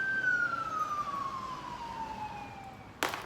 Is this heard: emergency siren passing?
yes